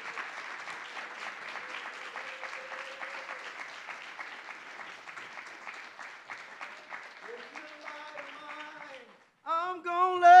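An audience applauds steadily to welcome a reverend to a campus lecture on spiritual life, with sustained clapping and no pauses that gives way near the end to a singing voice.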